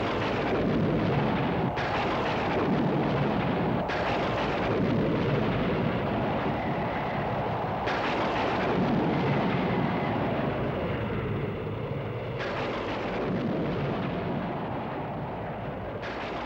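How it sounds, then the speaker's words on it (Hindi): Heavy thunder rolls without a break through a violent stormy night, a deep, loud, continuous rumble with swelling surges and crashes and no voices over it. "ए भयानक तूफानी रात में"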